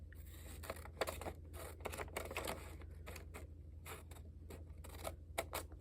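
Scissors snip through paper for a budget journal corner pocket, a quiet string of short crisp cuts in irregular rhythm, close by with no talking.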